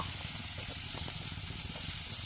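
Dried Bombay duck fish fries in a pan over low heat, a continuous dense sizzle and hiss with faint crackles throughout.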